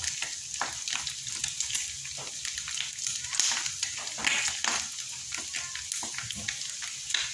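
A small amount of cooking oil sizzles and crackles steadily in a pan while frying for pinakbet, a continuous close hiss with irregular pops and stirring clicks.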